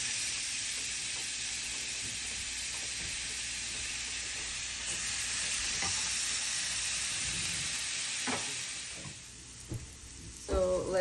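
A steak sears in a hot pan, searing over direct heat, giving a steady loud sizzle and hiss that holds throughout, with a few small pops and crackles near the end.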